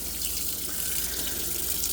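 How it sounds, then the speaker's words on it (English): Hot water pours steadily from a faucet to rinse ice off a refrigerator freezer basket, making a continuous rushing hiss throughout. "so now we just got to get all the ice rinsed off of this basket"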